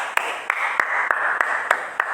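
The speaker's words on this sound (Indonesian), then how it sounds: "Kakak sendiri tepuk tangan." Students at a high school orientation clap in slow, evenly spaced single claps, about seven sharp hits over steady room noise, fairly close.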